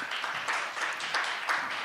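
An audience at a digital government forum applauds panelists walking onto the stage, giving dense, steady clapping that fills the room evenly and carries no break or voice over it.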